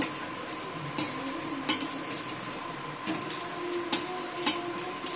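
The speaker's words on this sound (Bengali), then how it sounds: "আর এদিকে পটলটা ভেজে নিচ্ছি" Pointed gourd (potol) frying in oil in a home kitchen: a steady close sizzle with occasional sharp clinks and scrapes of stirring.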